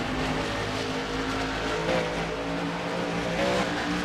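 Race cars roar past at a circuit's pit exit in the Second Life game, a steady dense engine drone with tire noise holding at even loudness throughout.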